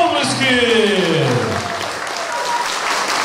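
Audience applause for the youngest members of a children's song group at a Lviv song theatre performance, a steady, close wash of clapping heard under a presenter's speaking voice.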